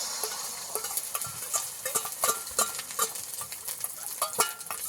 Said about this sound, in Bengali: একটু তেল দিয়ে দেবো আবারও ডিমের গোলাটা দিয়ে দেবো